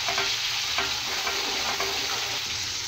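Onions and whole spices frying in oil for chicken karahi, a steady dense sizzle with faint stirring scrapes running continuously throughout.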